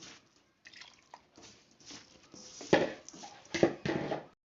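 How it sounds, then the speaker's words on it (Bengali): A little water is added to soft dough for dudh gokul pitha, giving quiet wet dripping and squishing bursts that grow louder and messier toward the end, close and without talk. "এবার এর মধ্যে একটু জল দেব অল্প একটু জল দেব"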